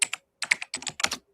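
Someone typing on a computer keyboard with their toes, producing clusters of sharp, close clicking keystrokes in irregular bursts with brief pauses between them.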